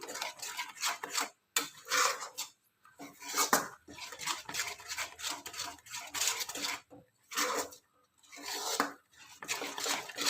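A spoon stirs a thick raw mango aam papad mixture in a pan on a gas flame, making repeated scraping and clinking strokes in an uneven rhythm with brief pauses between them.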